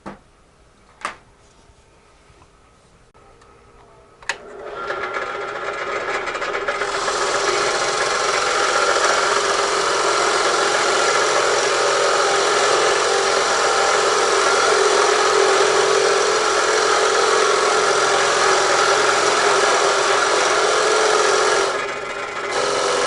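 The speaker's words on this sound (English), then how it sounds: "Let's go drill some holes." A couple of sharp knocks, then a drill starts and grinds steadily through wood for a long stretch, loud and close, before easing briefly near the end.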